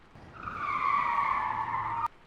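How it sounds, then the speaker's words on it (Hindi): A car's tires screech in a hard skid just before it strikes someone. The squeal swells quickly and holds loud and close for about two seconds, then cuts off with a sharp click. "अचानक एक गाड़ी ने उसे जोरदार टक्कर मार दी।"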